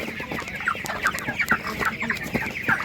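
Broiler chickens at a Ukrainian market cluck steadily and overlapping, a dense, moderately close flock chatter with no voices.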